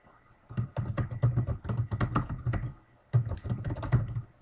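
Rapid keystrokes on a computer keyboard entering an advertisement headline, two bursts of steady close typing with a short pause between them, no voices.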